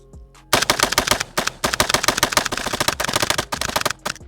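A Stenzel SAK-21 AK rifle firing rapid, loud shots in close, sharp bursts with brief gaps between strings, recorded up close outdoors.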